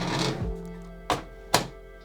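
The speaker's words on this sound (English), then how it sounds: "we're installing into the long x16 PCIe lane" A graphics card is pushed into the long PCIe 3.0 x16 slot of a Dell Inspiron desktop. Two sharp plastic clicks come about half a second apart after a duller thunk, close and alone over a quiet room.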